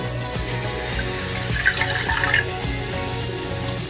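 Water runs steadily into a container, a continuous splashing gurgle with a brief brighter trickle midway.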